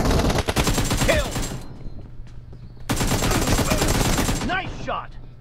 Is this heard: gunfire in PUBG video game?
yes